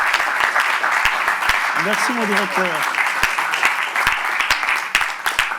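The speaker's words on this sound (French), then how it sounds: "je vous demande de bien vouloir applaudir très fort" An audience at a French talk on music and creativity claps in dense, sustained applause, with someone speaking briefly over the clapping.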